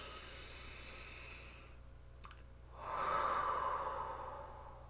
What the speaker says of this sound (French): on va prendre une bonne respiration ensemble et on y va